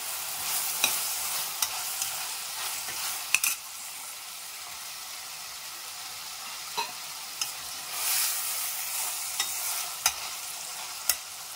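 Steady sizzling of beetroot frying in a pan for beetroot salna, with occasional scraping knocks from stirring; no voices.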